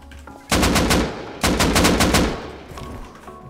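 Two rapid automatic bursts from an AK rifle in the survival game Rust, each about half a second of loud, close, evenly spaced shots, followed by fading echo and quieter background noise.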